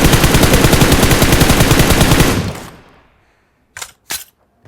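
An M4 rifle in PUBG Mobile fires a loud, rapid sustained automatic burst for over two seconds that fades out, followed by two short separate shots after a pause.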